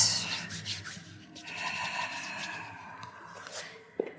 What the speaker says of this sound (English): just give a little scrub to the top of the foot, maybe each individual toe